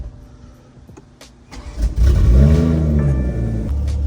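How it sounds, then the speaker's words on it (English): A BMW M340i turning over on a cold start, a few starter clicks and cranking before the engine catches, then a loud close rumble that flares and settles into a high, steady cold idle. "But first, let's get a little cold start."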